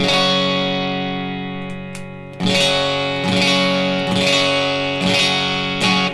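Electric guitar through an EQ pedal, scooped mids and boosted lows, a long ringing chord followed by several firm strums in a steady pattern.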